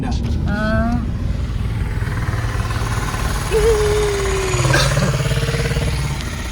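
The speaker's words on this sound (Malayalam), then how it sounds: "ഇത് ബൈക്ക് ഓട്ടോറിക്ഷ" An auto-rickshaw built on a Bullet motorcycle runs with a steady low engine thrum on a city street in Surat, while people talk over it and a horn-like tone sounds briefly.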